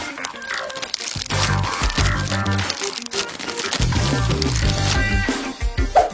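Fresh corn being peeled by hand, a loud, close crinkling and tearing of husks in irregular rips and rustles lasting several seconds, with a few quick vocal sounds in between.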